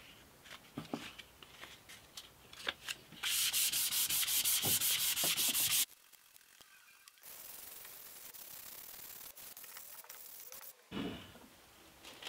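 Sapele wood being hand-sanded with 400 grit sandpaper, loud steady rubbing strokes in bursts, including a long sustained pass, with quieter scuffs between and short pauses.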